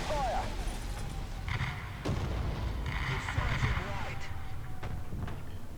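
An artillery strike called in during a War Thunder tank battle with a British T17E2 anti-aircraft vehicle, with distant booming impacts and rumble under steady battlefield noise while someone talks over it.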